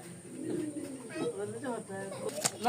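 Teddy and Rajshahi Giribaz pigeons coo in low, repeated murmurs through the clip, with other bird calls and background noise mixed in.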